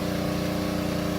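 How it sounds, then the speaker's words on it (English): A pressure washer cleans leftover cement off a driveway by a new walkway, heard as a steady, loud, even mechanical drone with a constant pulsing hum and no voices. "And now you can hear the power wash."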